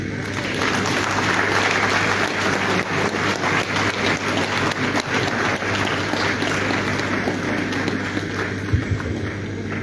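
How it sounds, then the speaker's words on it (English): Audience at a national forestry forum in a ministerial complex applauding continuously, a dense even wash of many hands clapping throughout, fairly loud and steady. "Please give another round of applause to the Managing Director, the FDA."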